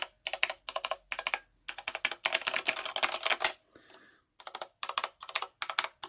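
Rapid typing on a Corsair K63 wireless mechanical keyboard, close clattering keystrokes in several quick bursts with a short pause midway, no talking.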